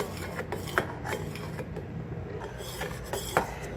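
A spoon scrapes and rubs against a pan as homemade condensed milk thickens over a medium flame, giving steady, close, gritty strokes with a few sharper clinks.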